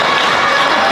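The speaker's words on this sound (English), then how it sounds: "The crowd is heavily behind Vance." Partisan wrestling crowd at a Great North Wrestling match in Smiths Falls, Ontario roars in a dense, continuous wash of cheering, loud and close for a short burst.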